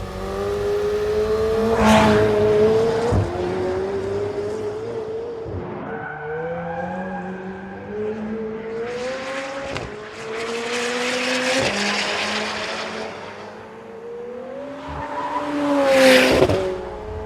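Loud, close engine of a 2018 McLaren 720S supercar driven at night in pouring rain, with repeated surges as revs climb and drop between gear changes and sharp bursts of acceleration, no talking.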